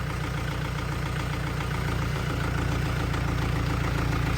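A farm tractor engine idles and runs steadily while backing up a trailer during harvest prep, a loud, close, continuous low rumble with a regular throbbing beat and no speech.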